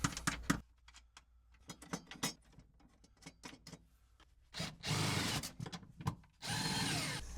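Power tool spinning nuts down onto a dual battery hold-down mount in an Ineos Grenadier, with scattered clicks and handling noises followed by two sustained buzzing runs near the end.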